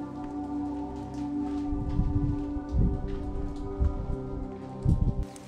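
Steady rain falls outside an ancient temple in Gerga, Caria, heard from shelter inside the stone building, a continuous wash with occasional louder drips and low thumps.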